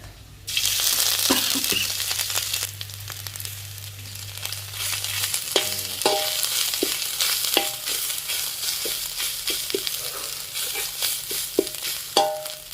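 Pork and pork kidney stir-fried in a hot wok for spicy holy basil pork: a loud, steady sizzle runs throughout, broken by repeated scraping and clacking strokes of the spatula against the pan.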